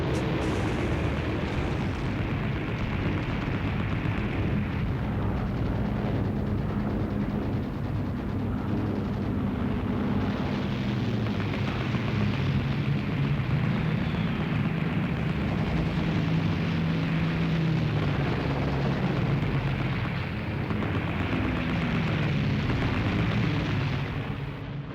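Continuous loud roar of WWII British fighters and German bombers in an air battle, droning engines with rising and falling pitch, dense rumbling and bursts like distant gunfire throughout, no voices.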